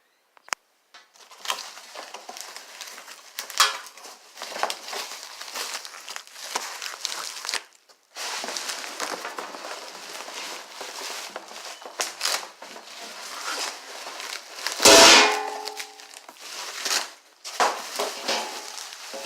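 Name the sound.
unboxing a package containing a transmission fluid pan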